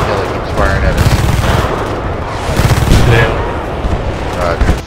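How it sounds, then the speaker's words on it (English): Gunfire in Battlefield Bad Company 2 beta: repeated bursts of automatic weapon fire and shots over a busy battle din, with players talking over the game. "RPG on top of that hill, he keeps firing at us."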